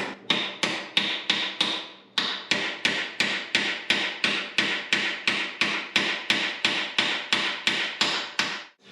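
A hammer drives a metal piece in flush with a run of about twenty evenly spaced, sharp, ringing blows close by. There is one short pause early on, and no speech.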